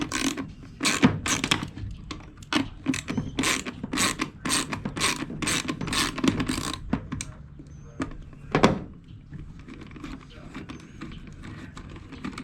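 Hand ratchet turning a small 7/32 socket, a rapid series of sharp clicking strokes, close and fairly loud, followed by a thunk and quieter handling, with no speech.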